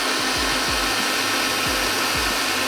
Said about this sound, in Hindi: थोड़ा सा इसको और ब्लेंड कर लेते हैं।